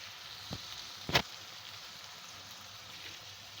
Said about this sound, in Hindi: मसाले को हम अच्छे से भून लेंगे।